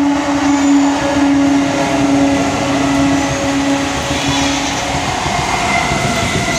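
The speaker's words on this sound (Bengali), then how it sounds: "তো যে দেখো ট্রেন আসছে" A train rolls past on the down line of a railway, a steady loud rumble with a sustained tonal hum that holds throughout and eases slightly toward the end.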